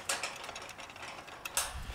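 A ratchet tightening a dirt bike tie-down mount, a series of quick close-up mechanical clicks of the pawl, fairly soft, with a couple of sharper clicks near the end.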